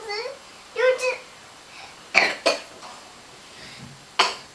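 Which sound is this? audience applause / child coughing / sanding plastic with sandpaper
child coughing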